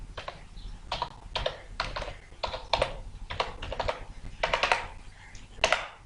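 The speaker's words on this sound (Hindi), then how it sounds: "मैं अपना ही टाइप करूँगा यहाँ पर आपको दिखाने के लिए" Someone types a wifi network name on a computer keyboard in quick bursts of close, crisp key clicks separated by short pauses, with no voices.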